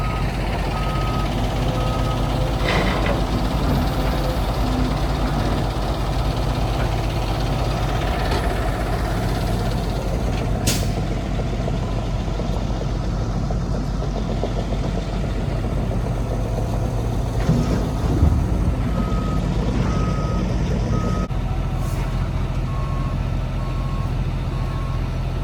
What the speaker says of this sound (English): That truck is going to get loaded at the excavator next to me.